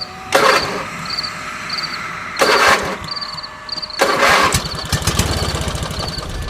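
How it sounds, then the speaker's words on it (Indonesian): A motorcycle's starter cranks in three separate bursts without the engine catching, on a quiet road at night, with crickets chirping steadily in between. "Aku pun mencoba starter motor saya berkali-kali, tetapi tidak bisa sama sekali."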